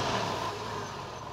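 The engine of a Porsche 911 of the 996 generation idles in a steady, moderately loud hum, with no other sounds over it.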